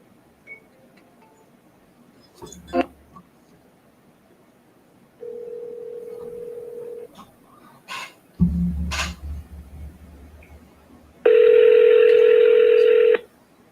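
Outgoing telephone call with keypad dial tones, then a steady ringback tone that cuts off, followed by a louder multi-tone chime; no one speaks.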